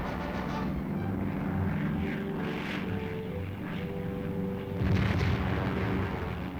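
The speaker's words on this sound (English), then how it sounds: "Tactical aircraft led the way, their objective, wiping out anything their bullets and rockets could spot." Aircraft engine drone with rumbling explosions and gunfire as tactical aircraft strike targets with bullets and rockets in Korean War footage, a steady low roar with a louder burst near the end.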